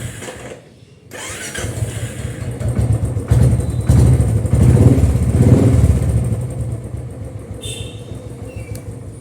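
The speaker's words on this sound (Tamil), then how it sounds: "நம்ம வண்டியை ஸ்டார்ட் பண்ணலாம்." A Royal Enfield motorcycle engine cranks and catches after a starting fuse fix, then runs steadily and loudly at close range, settling toward an idle.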